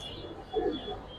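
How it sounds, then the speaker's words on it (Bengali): A Giribaz pigeon gives a single soft, low coo, faint and close, over a quiet background. "পারফেক্ট একটা কবুতর।"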